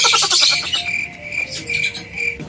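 Many pet birds chirp and tweet in a busy, overlapping chorus, close and fairly loud, with rapid high calls throughout.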